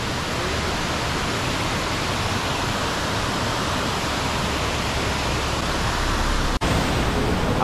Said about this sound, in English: So this is Ravana Waterfalls.